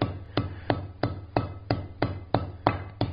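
Hammer blows forging a steel ball end on the face of an anvil, about ten sharp metallic strikes in a quick, even rhythm, close and alone.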